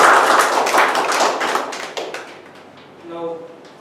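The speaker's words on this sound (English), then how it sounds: "I would like to request you to give a round of applause" A meeting audience gives a round of applause, dense clapping that is loud at first and thins out over a few seconds, then a voice starts speaking near the end.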